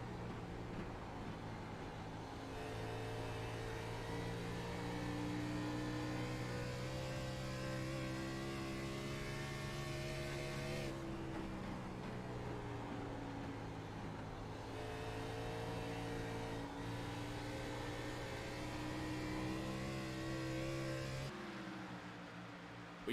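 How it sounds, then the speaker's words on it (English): An Xfinity Series stock car at Dover International Speedway, heard from the cockpit during a race, drones at high steady revs with brief dips at gear changes and no talk over it. "Let's ride along in the cockpit with Zach."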